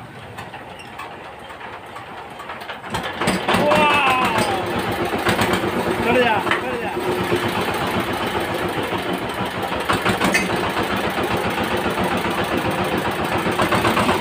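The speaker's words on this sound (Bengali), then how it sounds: "তো আমাদের কাজ কমপ্লিট হয়ে গেছে, দেখেন এবার স্টার্ট দেবে।" A VST Shakti power tiller engine, fitted with a faulty steering gear, starts abruptly and then idles with a steady, loud rhythmic chug. People talk briefly over it.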